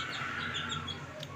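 Young crested chicken chicks chirp in thin, high peeps close by, several overlapping calls over a steady low hum.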